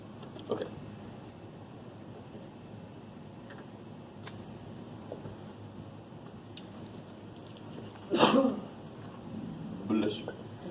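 A short, sharp sneeze bursts out near the middle of a quiet math lecture room, with softer noises and faint voices around it.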